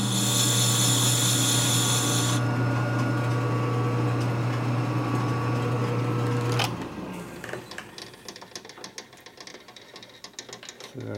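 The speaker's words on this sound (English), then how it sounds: "Just a piece of crap Taiwan lathe, so you never trust it." A Taiwan-made lathe runs with a loud steady whine and hum for several seconds, then powers down, leaving scattered clicks and small tool taps nearby; no talking.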